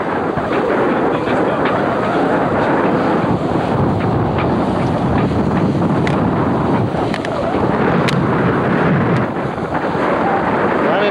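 A steady, loud roar of wind buffets the microphone aboard a B-40 sailboat racing at sea in the 1997 Marion Bermuda Race, with waves rushing continuously underneath and faint knocks over the constant rumble.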